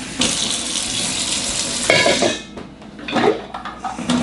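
Water runs from a kitchen tap into a sink while dishes clink, a steady splashing that is loud for the first two seconds, then eases and turns more intermittent as the flow changes.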